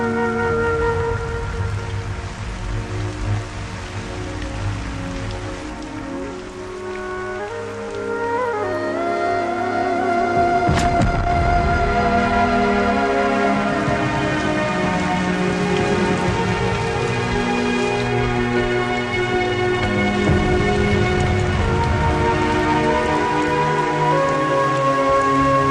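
Steady rain falls and patters on surfaces in a dense, continuous wash that grows heavier about halfway through, with scattered close drips and a brief sharp knock among the drops.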